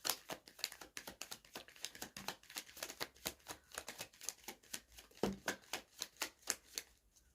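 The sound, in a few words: tarot cards being shuffled and drawn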